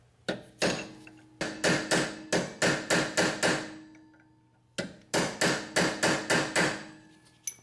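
A hammer strikes to stake the axle nut on a Honda CR-V during a rear wheel bearing job: a quick first blow, then two sharp, close bursts of about six evenly spaced metallic strikes each, loud and alone with a faint hum.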